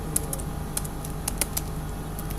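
A firewall-cmd command is typed on a computer keyboard in a Linux terminal: steady, close key clicks in an uneven rhythm over a low constant hum, with no talking.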